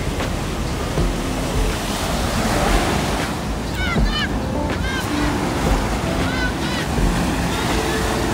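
Ocean waves wash onto a busy beach in Cape Town, South Africa, a constant close surf roar under wind buffeting the microphone, with scattered faint bird cries and distant voices mixed in.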